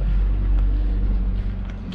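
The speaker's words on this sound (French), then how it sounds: "Il y a un camion" Truck passing outside an abandoned building in Turkey, a heavy low rumble heard from inside, steady and fairly loud with faint wind noise.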